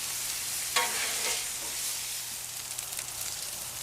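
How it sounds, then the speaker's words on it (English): Spatulas toss apples and jalapeños on a Blackstone griddle; a steady close sizzle carries a sharp scrape near the start and light clicking strokes after, with no voices. "And just kind of mix around the apples and jalapenos a few times with your spatulas"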